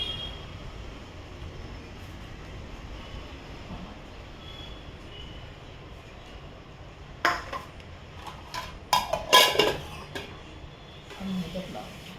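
Dishes and utensils clink in short bursts while a traditional festival thali for a Ganpati offering is arranged, the clatter clustered near the end over a quiet background.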